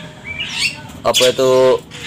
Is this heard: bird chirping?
yes